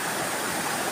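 A swollen river rushes after rain, producing a steady, full roar of flowing water that is close and constant throughout, with no talking.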